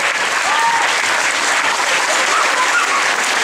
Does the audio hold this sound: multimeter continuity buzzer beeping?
no